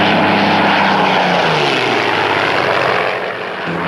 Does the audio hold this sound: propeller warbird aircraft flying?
yes